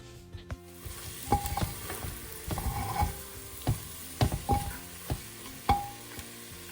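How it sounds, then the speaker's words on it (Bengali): Fried paneer cubes stirred into a sizzling pan, with a faint sizzle under a series of distinct spatula scrapes and knocks against the pan at an uneven rhythm. "এবার যে পনিরগুলো ভেজে রেখেছিলাম সেইগুলো আমি এর সঙ্গে মিশিয়ে দিলাম"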